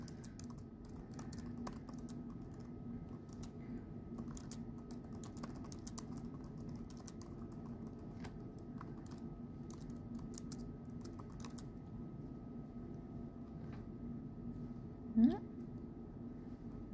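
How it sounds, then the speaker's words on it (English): Typing on a computer keyboard: a steady run of soft, close key taps over a low background hum, with one sharper knock near the end and no voices. "So I'm going to type up what I wrote out."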